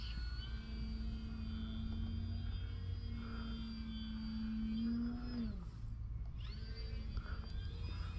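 An OMP Hobby Bighorn 49 RC airplane cruising at half throttle on a hot day, a steady humming motor whine that sweeps down in pitch as it passes, faint, with wind rumble and no talking.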